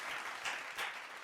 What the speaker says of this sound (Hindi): एक बार फिर जोरदार तालियां हो जाएं हमारे सभी शानदार विजेताओं के लिए